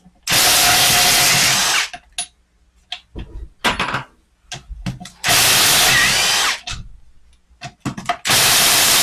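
A power tool whirs loudly in three long bursts while taking out transmission case bolts. Sharp clanks and rattles of metal fill the pauses between runs.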